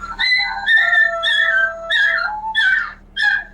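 Dog howling in imitation of a passing siren, a loud, close series of long wavering howls and yips rising and falling in pitch, with brief gaps between them.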